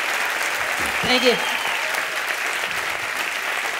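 Applause from a comedy show audience, an even, sustained wash of clapping with someone briefly speaking over it.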